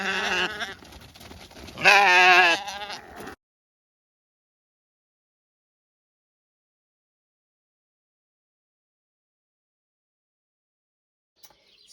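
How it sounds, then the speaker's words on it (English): A few close, loud bleats from sheep on an off-grid homestead in the first three seconds, then near silence. "Sheep, sheep, sheep!"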